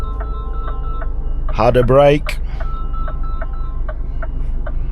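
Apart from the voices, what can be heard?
phone ringing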